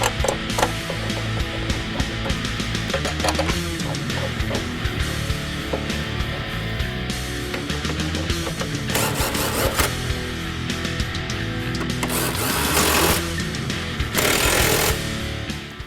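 Tools tighten the subframe bolts on a 2015-2023 Ford Mustang fastback in a garage, producing constant close ratcheting, clicking and mechanical rattle, with heavier whirring bursts near the end.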